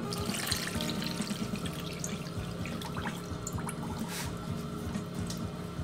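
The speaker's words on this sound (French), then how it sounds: "Donc je mets les 500 g de sucre, les 1 litre d'eau" Water is poured into a pot for a sugar syrup with 500 g of sugar and a litre of water, a steady splashing stream that runs continuously and close, with no talk.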